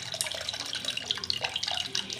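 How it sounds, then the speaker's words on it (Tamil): Tamarind water pours into a cooking pot for sambar, a soft, continuous splashing trickle with small drips, close and fairly quiet, with no one talking. "அந்த புளி தண்ணியை வந்து ஆட் பண்ணிக்கிறேன்"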